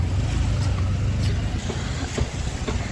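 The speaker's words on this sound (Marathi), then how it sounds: "तर बघ थार आली" A Mahindra Thar SUV pulls up outdoors, its engine a steady, loud low rumble throughout, with faint voices beneath it.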